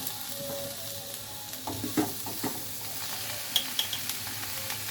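Pointed gourd peels and potato frying in a pan, a steady broadband sizzle with several louder stirring scrapes and clinks partway through, close and fairly loud, no voices.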